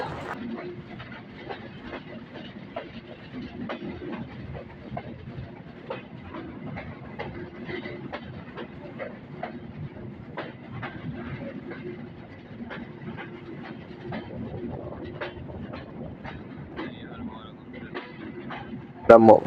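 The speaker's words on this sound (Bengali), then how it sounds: "আমরা মোবারকগঞ্জ রেলওয়ে স্টেশনে 1 নম্বর প্ল্যাটফর্মে প্রবেশ করে গিয়েছি" A train entering the platform at Mobarakganj railway station: a faint, low rumble with a regular clickety-clack of wheels over rail joints running throughout, and a brief louder knock at the very end.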